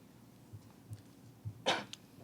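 A single cough rings out fairly close at a post-game basketball press conference, a short sharp burst after a few soft low thumps, with a faint follow-up just after.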